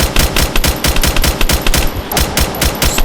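Rapid pistol gunfire in a Minecraft-style video game, a dense stream of loud close shots with no pauses, no talking.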